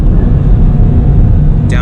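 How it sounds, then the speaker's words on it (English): A 2020 Toyota GT86 Hakone Edition driven hard into a corner, its engine droning loud and steady with road roar, a brief rising blip near the end as it downshifts into third. "downshifting the third there"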